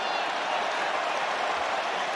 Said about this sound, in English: And the crowd are applauding.